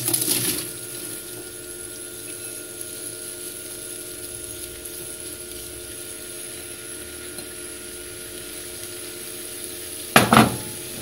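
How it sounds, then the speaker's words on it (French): Onions frying in melted butter for a parsley onion tart: a steady, soft sizzling hiss over a low hum, with a clunk at the start and another utensil knock near the end. "Une fois vos beurre entièrement fondu, comme je dit tout à l'heure, vous allez commencer à mettre vos oignons."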